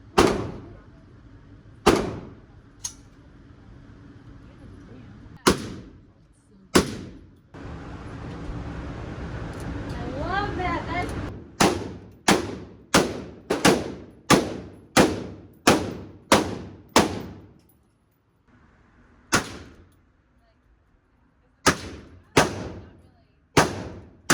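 Gunshots at an outdoor shooting range, loud sharp reports fired singly and then in quick rapid strings, with a stretch of talk and background noise between volleys.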